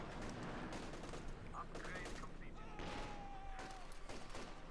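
Distant machine gun fire in Company of Heroes 2, soft bursts and scattered shots of a Soviet assault buried under a commentator's steady talk.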